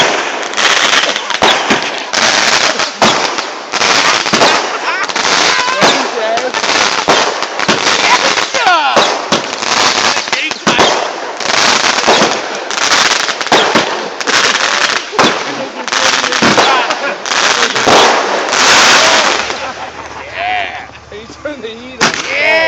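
Fireworks going off in a long, loud run of dense, rapid bursts and crackling booms close by, with the loudest barrage easing off near the end; people can be heard cheering and shouting over it.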